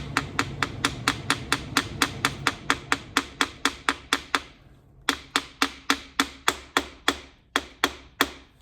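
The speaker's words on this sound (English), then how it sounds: "I found a brass hammer." A brass hammer taps a metal part into place during an Audi/VW 2.0T engine rebuild, in a rapid steady series of sharp strikes, pausing briefly before another quick run of taps.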